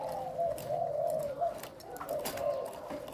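A Malaysian zebra dove coos close by in a soft, repeated trilling pattern over about three seconds, alone against quiet background noise.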